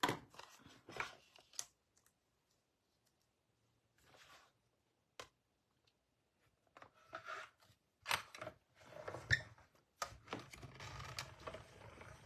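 Scissors snip through a white paper piece for a handmade card in short, close, scattered bursts, separated by quiet pauses, with no talk.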